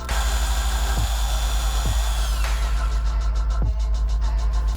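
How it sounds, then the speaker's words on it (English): A power drill whines steadily, its pitch dropping sharply three times as the bit bites into the wood. "mark the location of the holes in the flower pot onto the piece of wood with a pencil, and drill the wood"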